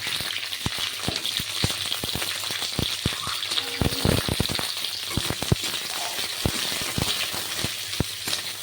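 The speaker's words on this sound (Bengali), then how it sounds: "এবার ক্যাপসিকামগুলো যে কেটে রেখেছি সেগুলোকে একটু ভেজে নেব।" Sliced capsicum fries in oil in a hot wok, giving a steady bright sizzle broken by frequent sharp clicks and scrapes of stirring, close and fairly loud, with no talking.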